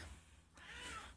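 A pet cat gives a single short meow, moderately close and fairly soft, rising briefly over a quiet room.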